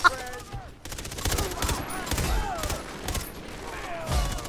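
Rapid bursts of Vector submachine gun fire in Far Cry 3, close and sharp with brief pauses between strings, mixed with game effects and voices talking over it.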